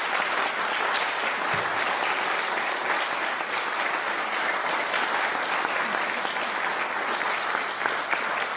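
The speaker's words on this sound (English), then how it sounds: "Round of applause for the newest chapter members." Steady applause from an audience at a Windsor Middle School National Junior Honor Society induction ceremony, welcoming new chapter members; dense, continuous clapping fills the room evenly for the whole stretch.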